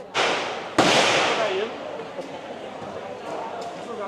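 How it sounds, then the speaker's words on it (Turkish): Sharp, loud gunfire from AK-47 rifles at a shooting range: two close reports cracking out in quick succession with a long echoing decay, and faint distant shots popping in the background. "AK-47'lerle tarıyorsun"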